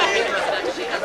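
A crowd dispersing after a Bill Clinton visit in flood-hit Woodland, Washington, heard as a close, steady babble of many overlapping voices chattering.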